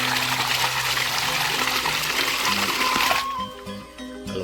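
Water gushes and splashes loudly from a 4-inch swing-valve hydraulic ram pump while air is bled out on first startup, then the rush cuts off abruptly, leaving a quieter trickle and knocking valve pulses.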